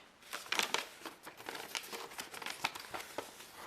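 Paper leaflet from an action camera box being handled during an unboxing: close, repeated crinkling and rustling in short bursts with a few crisp tearing-like snaps, with no talk.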